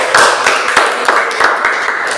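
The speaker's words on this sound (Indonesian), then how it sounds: "tepuk tangan dulu buat kita" A small group in a classroom claps briefly, the individual hand strikes close and distinct, falling in a loose, uneven rhythm rather than a smooth roar.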